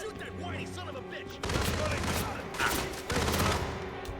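Gunfire in Hitman: World of Assassination, a loud burst of rapid shots from about the midpoint onward, with a second burst near the end, over game background sound and some voices.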